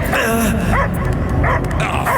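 A pack of dogs barks and yips in the video game Marvel's Guardians of the Galaxy, loud and continuous, with several overlapping calls rising over a dense rumbling game soundscape.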